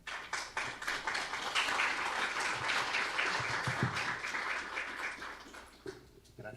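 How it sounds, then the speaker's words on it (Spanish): A conference audience in Mexico gives sustained applause, dense steady clapping that fades near the end. "Un aplauso para él."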